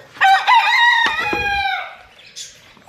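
A backyard rooster crows loudly and up close among pet chickens at feeding time, followed by a few softer clucks and bird calls as the crow trails off.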